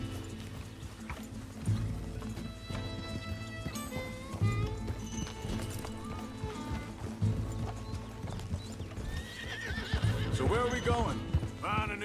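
Horses in the Red Dead Redemption 2 video game whinny repeatedly over a steady clip-clop of galloping hooves, with several neighs rising toward the end as people talk over the game.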